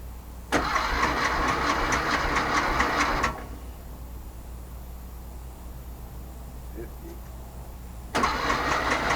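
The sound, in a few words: VW Sterling kit car engine starting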